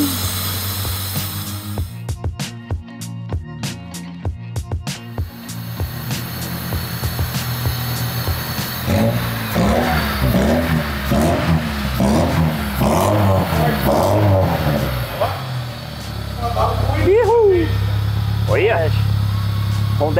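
A Honda Civic fitted with VTEC cranks several times and catches, then revs up and down in a series of rising and falling swells, loud and close. People talk and shout over the engine.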